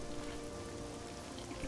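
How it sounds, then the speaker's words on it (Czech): Steady rain falling across the open world of the video game TES IV Oblivion, a dense, even hiss of drops with a faint tonal game hum beneath, continuous and uninterrupted. "Ještě prší, ne?"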